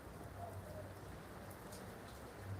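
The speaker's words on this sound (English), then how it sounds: "It has been raining since morning." Steady rain falling and pattering on surfaces, a constant soft hiss with a low rumble beneath it, continuous and moderately distant throughout.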